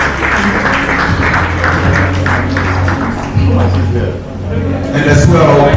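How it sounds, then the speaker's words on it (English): Applause at an awards event in Lagos: dense crowd clapping, loud and close, continuing throughout under a low steady hum and some background voices. "Please, a round of applause for him as he joins the high table."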